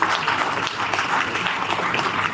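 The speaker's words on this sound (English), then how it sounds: "Give a big round of applause to him." Audience applause at a conference, a dense, steady wash of many hands clapping together that keeps going at an even level for the whole stretch, with no talking over it.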